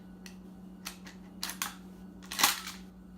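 The trigger of a pump-action shotgun is pulled and internal parts come out during disassembly for cleaning. Several sharp metallic clicks and clacks sound close by, the loudest near the end, over a faint steady hum.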